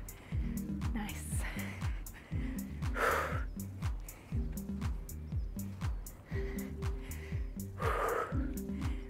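Someone breathes hard during a strength and cardio workout, with repeated gasping inhales and exhales close to the mic over rhythmic background music.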